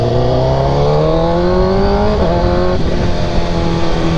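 A Honda CBR motorcycle engine revs loud and close, its pitch climbing steadily before briefly dipping and surging again, a continuous high-revving roar with no voices over it.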